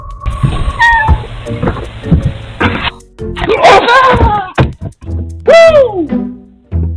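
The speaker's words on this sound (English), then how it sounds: "your cat is just staring at the door and meowing for no reason" A house cat meows repeatedly at a closed door, several drawn-out, rising-and-falling cries close by, with quieter thumps and rustling between them.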